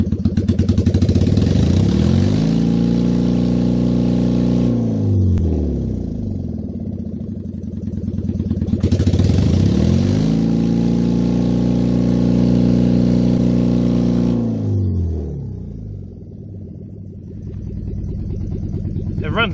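A Dodge Caliber engine runs rough on only two cylinders, a loud, uneven lumpy drone close by that surges with added fuel and then sags twice over about twenty seconds.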